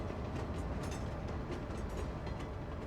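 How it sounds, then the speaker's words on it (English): A train in the Cities: Skylines 2 city-building game rolls past with noisy, rhythmic clickety-clack wheel beats over a steady rumble, evenly loud throughout. "That is a noisy train."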